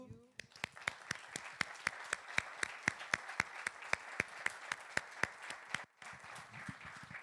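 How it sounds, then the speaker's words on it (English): A workshop audience breaks into steady, evenly spaced clapping that is loud and close, with sharp individual claps in a regular rhythm that stops abruptly near the end. "A round of applause to you."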